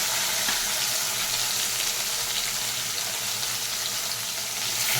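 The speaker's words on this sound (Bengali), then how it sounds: "এই তেলে দিয়ে দিচ্ছি গোটা লঙ্কা, গোটা জিরে আর তেজপাতা একটা" Whole chillies, cumin seeds and a bay leaf frying in hot oil, a loud, steady hiss and crackle close up that runs without a break, with no voices.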